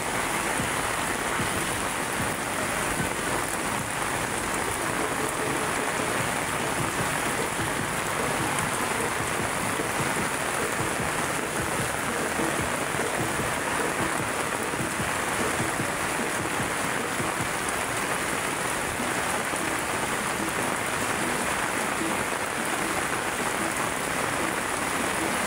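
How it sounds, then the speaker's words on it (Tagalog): Heavy rain pours steadily over Manila Bay, a dense, unbroken hiss of downpour that stays loud and constant throughout, with no voices. "Ang lakas ng ulan."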